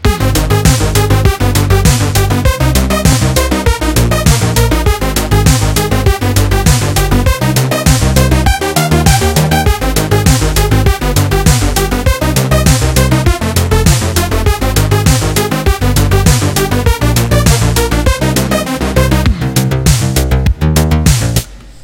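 A synthwave track with a chord progression plays back loud and dense, its steady beat and layered synth chords running continuously for about twenty seconds before cutting off abruptly, with no talking.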